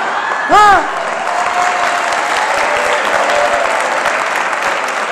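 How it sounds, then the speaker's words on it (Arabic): Wedding guests applaud in a loud, dense, steady clatter that fills the whole stretch, joined near the start by a brief high ululating trill. "هذا تصفيق عندها هي"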